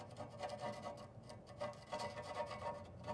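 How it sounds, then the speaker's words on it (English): Flathead screwdriver scraping flaking paint and rust off metal during undercoating prep: repeated rough rasping strokes, close and fairly quiet, in an uneven rhythm of short scrapes. "And I'll get all the loose paint and rust that's starting to flake. And I'll work those off and scrape those off first."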